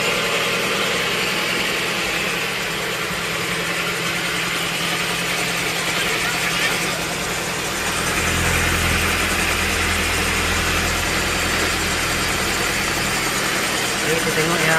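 A car engine idles steadily through a carburetor adjustment, a continuous close rumble with a slight shift in tone partway through, and voices may be faintly present beneath it.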